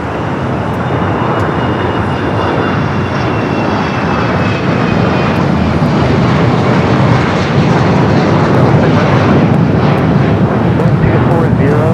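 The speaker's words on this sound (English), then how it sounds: "An A320 just touching down here." An Airbus A320 airliner touches down at Los Angeles International Airport with a loud, continuous jet engine roar and rumble that holds steady and close, with a faint whining tone early on.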